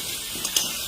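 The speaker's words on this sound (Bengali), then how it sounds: "দেখিস না আলু ভাজা করতেছি।" Potatoes fry in a pan with a steady, close hiss of hot oil and a couple of faint scraping stirs.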